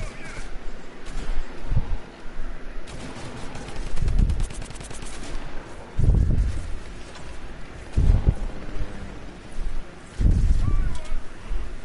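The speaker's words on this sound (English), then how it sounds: "Someone's shooting at me." Rapid automatic gunfire from the Fortnite video game rattles in loud repeated bursts, with heavier shots every couple of seconds over continuous in-game noise.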